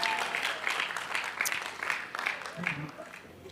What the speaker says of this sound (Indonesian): Tepuk tangan dong untuk teman-teman